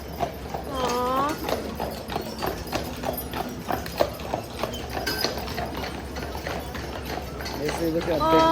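Horse hooves clip-clop in a steady rhythm on a Mackinac Island street, close and clear, while people chat over them and a horse briefly whinnies.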